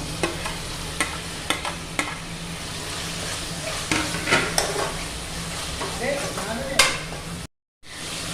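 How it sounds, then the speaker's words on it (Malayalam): Chopped tomatoes sauté in a hot pan with onions that have been cooked to golden, giving a continuous loud sizzle with repeated spoon taps and scrapes against the pan, then a brief drop to silence near the end. "ഇതിലേക്ക് അരിഞ്ഞു വെച്ചിട്ടുള്ള തക്കാളി കൂടി ചേർത്ത് കൊടുക്കാം."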